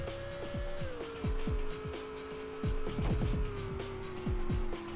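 A car in the racing video game Rush 2 drives down into a subway, its engine droning steadily with rising and falling pitch under repeated sharp clatters and thumps as it rattles over the tunnel surface.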